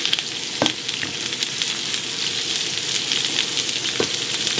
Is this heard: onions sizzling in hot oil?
yes